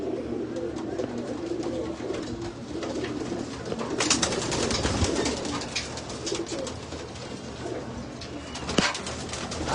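Pigeons in a stock room coo in low, soft rolling calls amid a steady murmur of birds, with occasional wing rustles and scuffles nearby.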